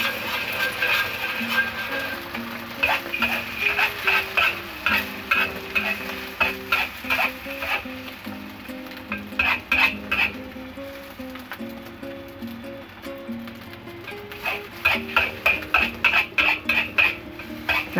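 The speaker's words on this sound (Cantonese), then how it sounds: "咁我將個蛋倒落去，咁啊將一個鑊鏟咧咁樣兜，咁樣係咁攪佢。" An egg fries in a hot wok with oil while a metal wok spatula stirs and scrapes it, making rapid rhythmic clinks and scrapes in quick bursts over a constant close sizzle.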